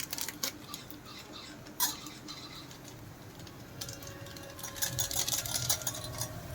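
A utensil stirs mutton masala spice in a pan, giving faint, irregular metallic scraping and light clinks against the pan, with a few sharper taps.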